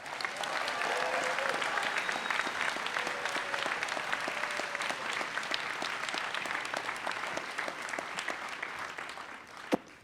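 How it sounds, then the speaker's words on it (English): A round of applause from the audience at a food awards ceremony, sustained and full crowd clapping that holds steady for several seconds before tapering off at the end. "Give them and yourself a round of applause."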